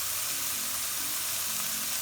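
Balsamic vinaigrette sizzles against Brussels sprouts in a hot pan, a steady close frying hiss that continues evenly throughout with no talk.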